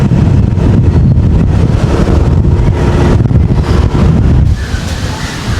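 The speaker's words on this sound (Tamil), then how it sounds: "இந்த கடலினுடைய அலை வேகமானது, காற்றுகள் அதிகரித்து இன்னும் மேலே வருது பாருங்கள்" Strong wind and rough surf on the Keerimalai coast during a storm, a loud, continuous roar of gusting wind and crashing waves that drops noticeably toward the end.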